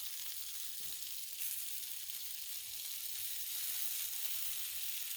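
Pierogi and kielbasa on a Blackstone griddle give a faint, steady hiss of sizzling that swells slightly toward the end, with no one speaking.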